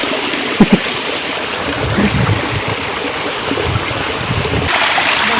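Water from a waterfall and stream rushes in a steady, broad roar close by, continuous throughout with a few faint knocks and a slight shift near the end.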